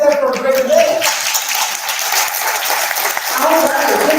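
Audience applause fills the whole stretch as dense, steady clapping from a crowd at a small business summit event, with a voice talking over it.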